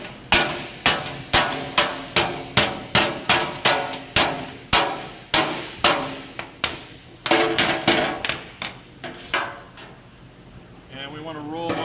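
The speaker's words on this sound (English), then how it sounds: "I'm going to go with a cross peen right here." Cross peen hammer blows strike a badly damaged sheet metal fender on a bench, a steady series of loud, sharp metallic hits in quick succession, then a scraping, ringing pass near the end.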